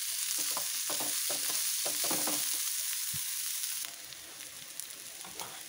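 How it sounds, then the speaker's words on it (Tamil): Large onion sautéing in a pan for Kerala prawn roast, a steady sizzle broken by repeated stirring scrapes, close and moderately loud, easing slightly toward the end. "அடுத்தது பெரிய வெங்காயம், இதையும் நல்லா வணக்கணும்."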